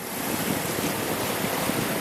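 A boat motors out to sea past Scott's Head, Dominica, with a steady broadband rush of wind and water washing across the microphone, no voices.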